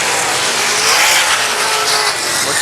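Sprint cars race around the Lakeside Speedway track in a loud, steady roar of engines, with the racing noise filling the whole stretch without a break.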